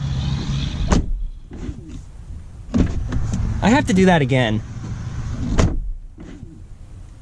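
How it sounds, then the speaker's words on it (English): The door of a 2019 Audi Q8 shuts several times with solid, heavy thuds, each followed by a brief whir, while someone talks between the closes. "shutting the door, I have never heard such a solid sounding door."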